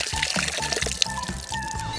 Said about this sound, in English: Now we pour the water.